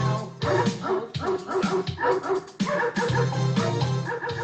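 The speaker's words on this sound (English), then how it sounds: "There's that crazy sample of the dog sound" Sampled dog barking and whimpering in a hip-hop track, with repeated yipping barks looped rhythmically over a steady beat, loud and continuous.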